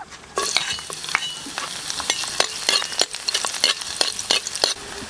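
Garlic sautéing in a pan to start a bulalo kare-kare, a continuous close sizzle broken by sharp scraping stirs and clicks of a utensil, with no talking.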